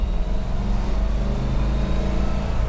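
A 1955 Ford Courier accelerating in second gear, its engine a loud, steady drone heard close up from inside the car, with no talking.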